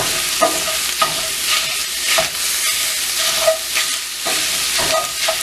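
Bratwurst crumbles fry in a pan with a loud, steady sizzle, broken by repeated scraping stirs of a utensil against the pan, close up with no talking.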